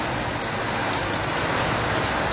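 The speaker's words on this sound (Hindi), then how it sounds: "लेकिन पानी काफ़ी तेज स्टार्ट हो गया है, आपको दिख रहा होगा।" Heavy rain pours down steadily in a dense, loud hiss, with no letup, water running off a roof.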